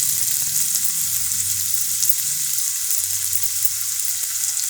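Barada greens tossed into a curry of gongura leaves cooking in oil, giving a soft, steady sizzle with a few light stirring scrapes close by.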